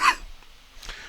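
A single short cough from a person, close and sharp, followed by a faint second catch of breath and near silence.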